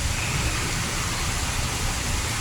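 Heavy wind-driven rain pouring in Bangkok, a steady, dense, loud hiss of downpour with no pauses.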